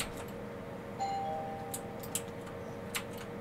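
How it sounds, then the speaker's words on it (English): A doorbell in the video game Fortnite rings once, a faint ding-dong chime heard indoors beneath quiet room noise, followed by a few small clicks. "Someone is rang my doorbell."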